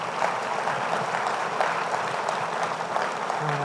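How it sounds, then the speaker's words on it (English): An audience at the 2018 Sustainable Denver Summit gives the sponsors a round of applause, a steady, even patter of many hands that carries on without pause. "Let's give all of our sponsors a round of applause."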